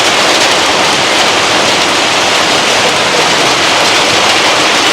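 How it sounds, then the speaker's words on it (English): A rain-swollen river rushes down from a hill, a loud, dense, unbroken roar of churning water filling the whole stretch with no voices over it. "So guys, we're here to witness the river coming down."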